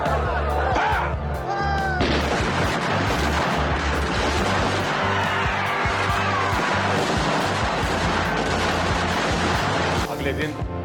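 Dense, continuous gunfire sound effect evoking the Jallianwala Bagh massacre, with indiscriminate shots fired into an unarmed crowd, loud and sustained throughout with rapid overlapping bursts and a rumbling low end.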